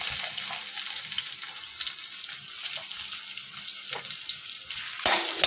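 Onions frying in a pan give a steady close sizzle with light stirring scrapes, a brief louder clatter near the end, and no voices over it.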